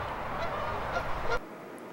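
A flock of geese honks loudly and continuously at close range, a dense overlapping clamor that cuts off abruptly near the end.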